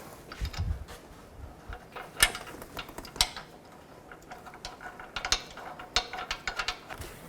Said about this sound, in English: Now I'm going to snug these down first. Use an 18mm wrench up top, 18mm socket down below.